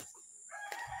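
A rooster crows among chickens on a small farm, one rising call in the second half following softer clucking, fairly close and clear with no one talking.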